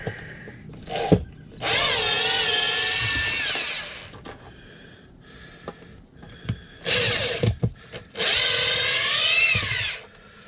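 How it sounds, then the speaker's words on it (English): A power drill removes screws from a boat seat in three close, loud whirring bursts of a few seconds each, with small clicks and handling noises between them. "So I take these two screws out here."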